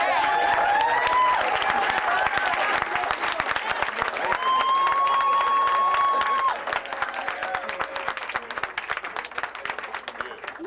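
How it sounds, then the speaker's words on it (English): A large audience at a church Martin Luther King Jr. celebration claps and cheers loudly and steadily, with whoops and voices over the applause. The applause fades slightly toward the end. "I want you all to just clap and make some noise"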